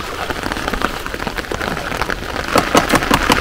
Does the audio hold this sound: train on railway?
no